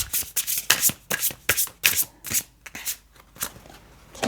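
Tarot cards being shuffled by hand in a steady run of crisp riffling and sliding bursts, close and moderately loud, with no speech.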